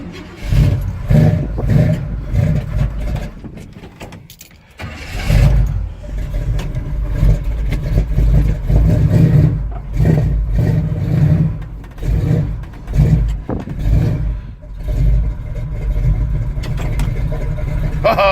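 A 1984 Chevy K30 truck engine cold-starting with no choke: it catches after a brief pause, then idles rough and loud, with repeated revs surging and falling up close.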